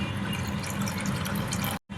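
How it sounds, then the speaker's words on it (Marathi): A jugful of water is poured into ground dal in a pot for a sweet dal, giving a steady, close, fairly loud splashing rush that ends abruptly near the end with a brief silence. "तांब्याभर पाणी घेतलेलं ते घालत आहे"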